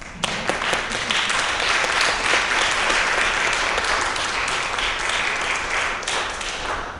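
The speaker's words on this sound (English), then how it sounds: "Can we just have another round of applause for these guys?" After a musical performance at a lecture recital, an audience breaks into loud, full applause, a dense continuous roar of clapping with a few sharp nearby claps, sustained evenly before easing slightly at the end.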